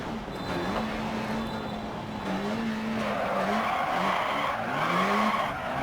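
A rally car in the Dirt Rally racing game brakes hard and skids through a turn, tires scrabbling loudly over a steady engine drone for the whole stretch, with no talking.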